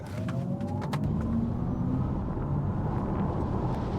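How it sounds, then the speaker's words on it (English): A smooth, rising whine of an Audi e-tron GT quattro electric car launching hard, the pitch climbing steadily under steady road and wind rumble, with no voices. "Let's try a little launch here and see how fast we can go."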